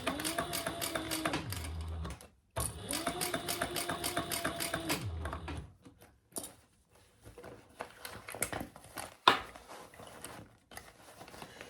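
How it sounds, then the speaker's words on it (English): A sewing machine stitches a crossbody bag in two quick bursts of rapid, even needle clatter, close and fairly quiet, followed by softer handling clicks and taps. "You can tell I'm sewing from the inside."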